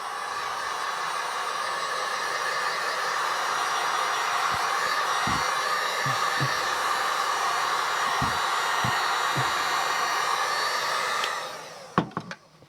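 A heat gun blows a steady, loud rush of hot air onto vinyl stuck to a dyed Discmania DD3 disc, running continuously with faint taps beneath before shutting off near the end.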